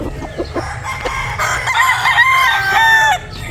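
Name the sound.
Sweater Gilmore breeder chickens, rooster crowing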